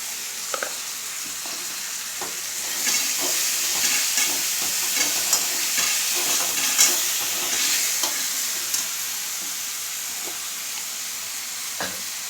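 Ginger and garlic paste fries in a pan of oil for a Bihari-style chicken curry, giving a steady bright sizzle with scattered scraping and stirring clicks throughout, close and moderately loud with no talking.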